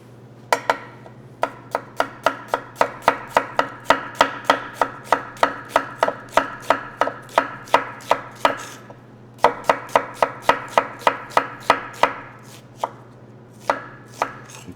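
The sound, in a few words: knife julienning a red onion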